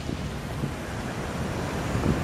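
Steady wind from the river sweeps across an open park near a fountain on Avenida del Libertador in Buenos Aires, producing a constant rushing roar that buffets the microphone throughout without a break.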